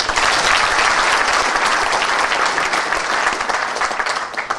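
Dense, sustained applause from a large seated audience at a morning lecture forum greeting school principals, loud and steady throughout with no break.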